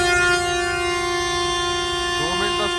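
The Thall Express, a short three-coach passenger train on Pakistan Railways, pulls away from Golra Sharif junction with a loud sustained horn tone held throughout and a slight pitch bend near the end.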